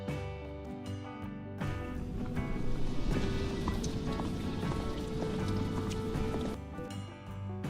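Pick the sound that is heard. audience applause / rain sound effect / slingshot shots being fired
rain sound effect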